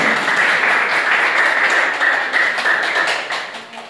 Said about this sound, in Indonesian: Aplaus buat